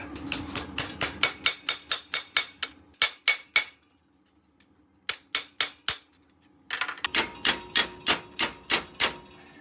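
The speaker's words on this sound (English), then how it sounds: "Right, we'll hammer that out." Rapid metallic hammer blows on a car's jacking point during welding repair ring out in bursts of steady strikes, pausing briefly before resuming, loud and close with sharp bright impacts.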